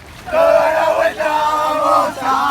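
Argentinian football fans celebrating a World Cup win outdoors in central Otago: a crowd chanting loudly in unison, in rhythmic sung phrases with brief breaks between them.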